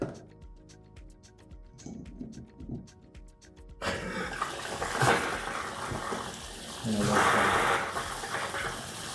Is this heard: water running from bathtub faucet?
yes